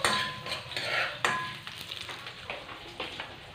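White onions saute in a frying pan for chicken tinola with papaya, a close sizzle broken by scraping stirs and light knocks of a utensil against the pan, with nobody speaking.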